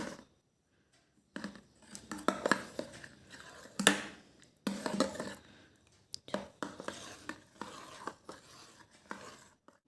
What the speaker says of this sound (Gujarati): હવે આ રીતે સરસ મિક્સ કરી લેવાનું